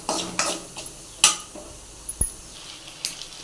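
Paneer frying in a pan is stirred with a utensil, giving several sharp clinks and scrapes against the metal over a faint, soft sizzle, with quiet gaps between strokes.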